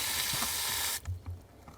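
Water sprays in a steady loud hiss from the weep hole of a reinstalled lawn sprinkler valve, then cuts off abruptly, leaving a few faint knocks and clicks.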